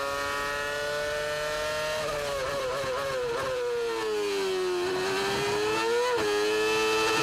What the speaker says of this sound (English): Really low revs, taking the gear up very early in the corner.